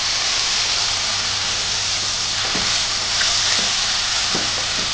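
Chopped tomatoes fry with a steady, dense sizzle in a pan alongside turmeric and onions, with a few soft scraping stirs breaking through the constant hiss.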